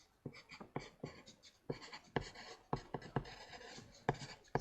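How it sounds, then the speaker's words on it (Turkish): A pen scratches across paper in quick handwritten strokes, close and fairly quiet, with a steady stop-start rhythm as a name is written out. "Hemen bir yazayım ben Melipe Şanstar'ı."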